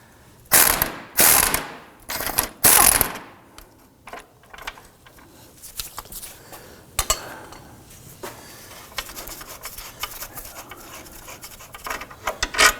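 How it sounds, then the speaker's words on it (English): A ratchet wrench with a 17mm swivel-head socket clicks in a few loud, quick bursts on a rusty nut and stud of a 2005-2009 Subaru Legacy control arm, then continues in softer, scattered ratcheting and metallic clinks. "Now I'm going to use a 17mm swivel head on this here."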